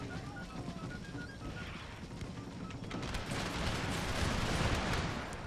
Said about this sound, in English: My cannons are actually just hitting this house